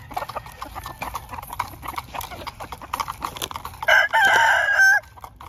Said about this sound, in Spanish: Andan alegres los gallitos.